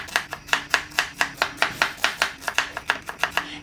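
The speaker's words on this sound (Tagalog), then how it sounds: "Sibuyas. Balatan lang din yan. Tapos, hiwain natin ng saktong paanggisa lang." A knife chops through onion on a cutting board, about twenty quick, evenly spaced strikes at close range with no voices.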